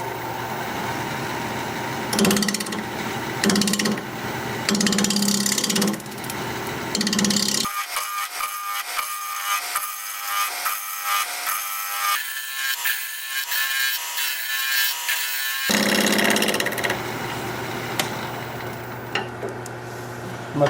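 Wood lathe at 1,000 RPM with a 5/8 inch bowl gouge cutting an olive wood bowl, loud scraping and hissing bursts broken by a quieter stretch of lighter ticking cuts.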